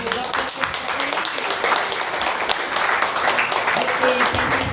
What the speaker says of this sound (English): give a round of applause to Dr.